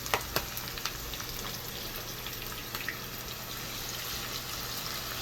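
Onions and a stock cube frying together in warm oil for Nigerian beans and yam porridge, a constant bright hiss with a few early clicks, steady and moderately quiet throughout.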